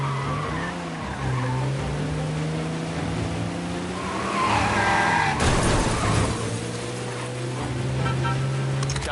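A car skids with a long tire squeal and crashes in Mafia: Definitive Edition, engine droning throughout; the screech swells midway and then settles back into steady motor noise.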